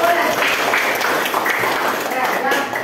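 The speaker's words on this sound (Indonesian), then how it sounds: "Tepuk tangan dulu." A class of students clapping hands in a dense, continuous patter, with loud talking and voices running over the clapping throughout.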